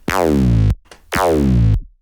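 Two sustained buzzy synth bass notes from a bandpass-filtered saw wave, each about half a second to a second long with a slightly falling, filtered tone and a short gap between them.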